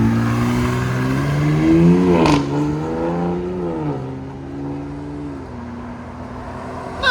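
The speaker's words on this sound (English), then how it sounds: "Ram RHO with the SPEQ exhaust by Magnaflow, and it's got the Hurricane 6-cylinder in it." A 2025 Ram RHO with a 3.0L Hurricane twin-turbo inline-six and a Magnaflow SPEQ cat-back exhaust revs loudly up and down, the engine note climbing and falling in several sustained sweeps before settling back to a steady idle.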